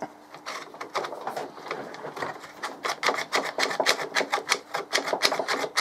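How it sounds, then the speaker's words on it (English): A ratcheting clamp cranked closed in a rapid run of sharp, evenly spaced clicks, close and loud, with a faint background hum. "Ratchet it closed."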